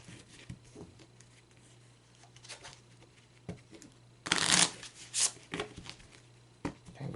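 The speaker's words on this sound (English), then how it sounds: "I'm going to stop there in terms of the shuffling" A deck of Kipper cards is shuffled by hand, with soft scattered flicks building to two loud riffling bursts and then a few lighter taps, close and without speech.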